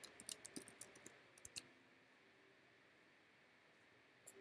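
A few sharp computer keyboard key presses clustered at the start, light and close, then quiet room hiss with one last click near the end.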